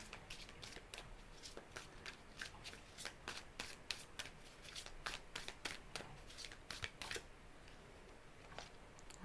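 Tarot cards are shuffled by hand in quick, crisp riffling bursts that repeat steadily and sound close and clear.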